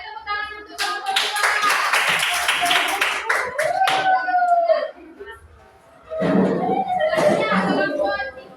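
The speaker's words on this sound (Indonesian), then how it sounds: "beri tepuk tangan untuk kelompok 2" A classroom group claps for a presenting group, bursts of hand clapping mixed with children's voices and chatter, fairly close, with a quieter pause before the clapping resumes.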